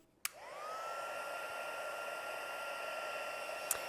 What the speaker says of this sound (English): Go back in with my heat gun.